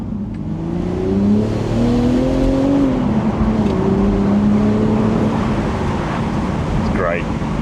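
A manual BMW Z4 M40i pulls hard through the gears, engine tone rising and dropping with each shift, heard loud and close from inside; a voice talks over it.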